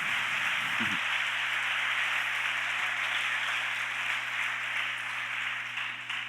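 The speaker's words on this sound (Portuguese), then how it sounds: "Dá uma salva de palmas para Jesus" A church congregation gives a sustained round of applause, a dense, even wash of clapping that holds steady for several seconds over a low electrical hum before tapering slightly at the end.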